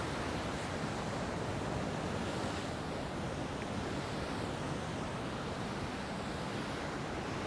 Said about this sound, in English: as the water comes over and crashes over those rocks